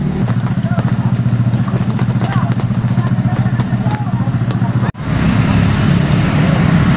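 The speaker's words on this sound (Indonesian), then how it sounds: "Tuh motor juga didorong, nggak kuat nanjak." Motorcycles labor up a steep hill climb, engines droning loud and steady close by under traffic rumble, with a brief cutoff near the five-second mark before the engine noise resumes.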